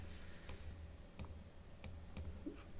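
Four sharp, evenly spaced key clicks over a low background hum, single presses at a slow, steady pace.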